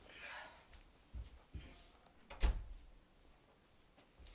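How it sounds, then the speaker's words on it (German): A room door pushed shut indoors, a few soft knocks and handling sounds leading to one firmer thud, close and fairly quiet. "Ich muss mal kurz die Tür zumachen."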